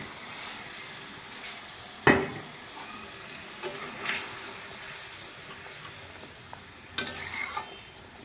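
Catla fish cooking in curd gravy in a pan, a soft low sizzle with scattered spoon clinks and stirring scrapes, one sharp knock near the start and a brief scrape burst later, quiet and close.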